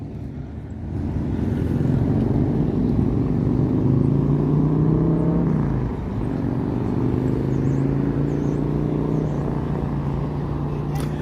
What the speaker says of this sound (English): Traffic this way been going smoothly.